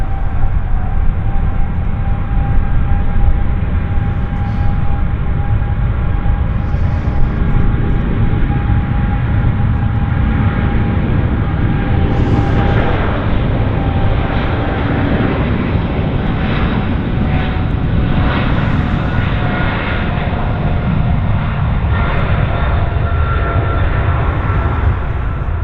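A heavy airliner at Vancouver International Airport roars loud and steady for the whole stretch, a sustained broadband jet rumble with a faint whining tone, swelling slightly midway as it passes, with no voices.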